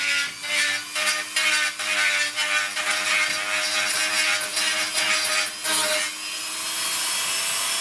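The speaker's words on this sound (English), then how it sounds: "get in there with my Dremel and take that piece of material away" A Dremel rotary tool grinds away material on a one-piece laser tube and mirror mount, a loud continuous buzzing whine with rhythmic pulses as the bit bites in, steady through most of the clip and ending in a smoother hum.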